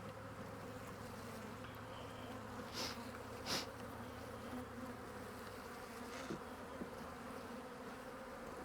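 Honey bees swarm around an open hive frame, their continuous close buzzing layered with a few light knocks and clicks of frames being handled.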